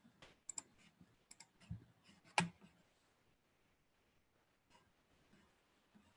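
Computer mouse clicks in a quiet room, a scattered handful of sharp, close taps, one louder than the rest, with near silence between them.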